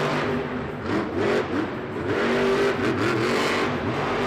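A monster truck's engine revs and roars at a Monster Jam stadium show in St. Louis, a loud, sustained rasp that rises and falls in waves amid arena noise.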